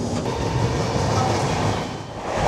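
The 13054 Kulik Express, hauled by a WAP-7 electric locomotive, rolls between Malda Town and New Farakka with a steady, loud rumble of wheels and carriages that carries on unbroken throughout.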